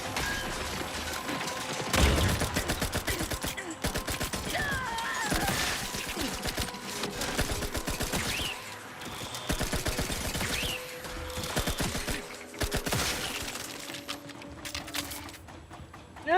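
Rapid gunfire from a weapon in the video game Outer Worlds 2, with dense overlapping bursts and mechanical clatter over a busy game soundtrack, steady and loud throughout.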